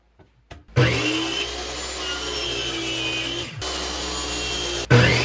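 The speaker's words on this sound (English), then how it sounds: "this is a live view of me cutting a board the wrong way" A power saw cuts a wooden board for a rustic fireplace mantle, starting up with a loud steady whine that runs through the cut, briefly dips and spins back up near the end, close and continuous.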